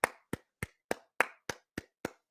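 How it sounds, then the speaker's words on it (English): A single person claps slowly during a live press conference reaction, eight crisp, close hand claps spaced evenly at about three per second, each sharp and distinct with quiet between. "Let me just clap it up, man"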